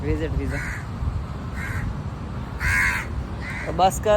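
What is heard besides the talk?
crow cawing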